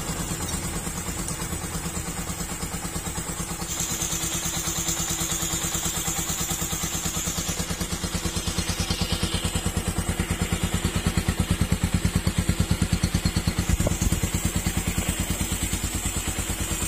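A Yamaha Vixion motorcycle engine fitted with a scooter exhaust runs close by, loud and deep, rumbling and pulsing steadily, getting slightly rougher as revs rise.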